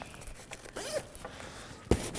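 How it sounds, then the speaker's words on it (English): A zipper being drawn open on the main compartment of a Tubu backpack, a short rasping pull close by, with a sharper click near the end and no talking. "when we unzip this main area, this is a nice front organizer."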